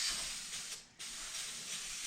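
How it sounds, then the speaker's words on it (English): Spray can of adhesive hissing onto the face of wood panels in a 1967 Mustang trunk, close and steady, with a brief pause midway before spraying resumes, no voices. "just spray this on the face of the wood."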